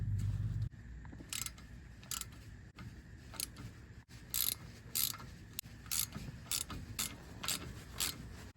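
A ratchet snugs up the hub bolts on a Lexus LX470 / Land Cruiser wheel bearing in a cross pattern, making bursts of sharp, close clicking that come in short runs with brief pauses between them.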